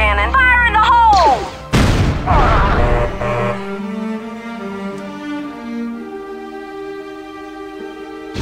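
Blaster cannon artillery fires in Star Wars Galactic Battlegrounds, a heavy broadband blast near two seconds followed by rumbling booms that fade into a lingering low tail, with game music tones underneath.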